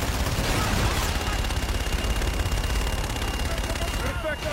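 Aircraft cannon fire during a gun run on a ground target, a loud continuous burst of rapid-fire gunfire with dense rumbling impacts, dropping off near the end.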